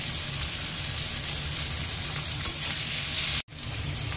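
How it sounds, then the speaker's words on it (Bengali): Onions sprinkled with salt fry in a pan with a continuous, even sizzle and hiss that cuts out abruptly for a split second near the end. "পেঁয়াজগুলো হালকা ভাজা হয়ে গেছে।"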